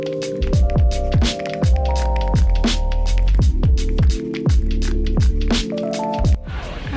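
Garlic powder and chili powder seasoning being mixed produces a loud, close series of rhythmic scraping, squishing strokes, roughly one every half second, over a steady low hum.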